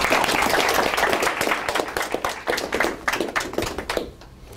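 An audience claps steadily for about four seconds as a lecturer on Theodore Beza is welcomed at the Meeter Center, dense overlapping applause that thins and fades out at the end.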